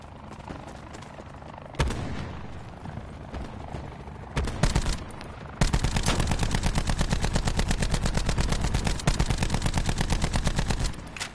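Loud, continuous video game gunfire on PS4: scattered shots and bursts at first, then a long rapid machine-gun stream of evenly spaced reports, close and dense.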